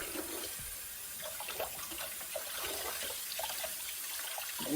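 Tap water runs over juicer parts being rinsed in a sink, a soft steady stream with faint splashing and trickling, fairly quiet and close, with no talking.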